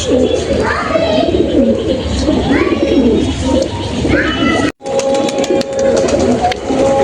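Madras pigeons in a loft coo repeatedly in soft, rolling calls, close and continuous, with a brief break partway through and some faint chirps and background rustle.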